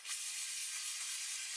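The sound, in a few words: spraying rust protectant onto a rag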